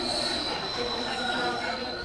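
The Dhauli Express rolls through rain-soaked Balasore station with a loud, steady metallic wheel squeal and a rumble of coaches underneath, sustained throughout without a break.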